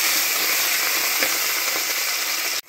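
Curry leaves, brinjal and peanuts sauté in hot oil with a steady, close, dense sizzle that runs unbroken before cutting off abruptly near the end.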